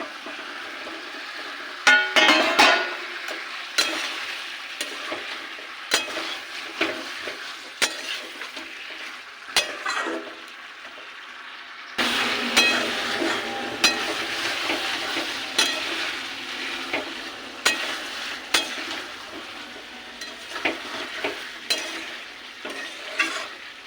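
Fried potatoes go into chicken kosha in a frying pan and are stirred, producing a hissing sizzle with irregular loud spatula scrapes and knocks against the pan, close up and without talk.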